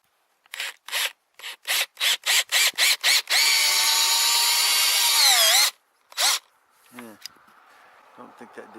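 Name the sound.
power drill driving sheet metal screws into mailbox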